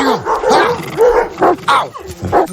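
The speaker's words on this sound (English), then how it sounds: "Hey, back off, mutts. Hey, get a hold of your dogs." Several dogs bark and yip close by in quick, irregular bursts, loud and agitated, with a voice mixed in between barks.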